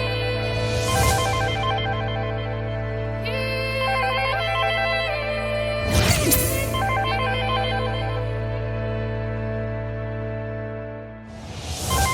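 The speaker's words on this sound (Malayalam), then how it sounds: "അയാളുടെ ഫോണിൽ റിംഗ് ചെയ്യുന്നത്." A mobile phone ringtone rings loudly and close by: a steady melodic tone repeats for the whole stretch, broken by brighter bursts, with no talking.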